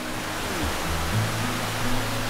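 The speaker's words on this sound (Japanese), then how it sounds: "ここにね、結構ね、立派な滝が" A waterfall in a mountain gorge in Okutama, a constant broad roar of falling water heard near and loud, with no voices.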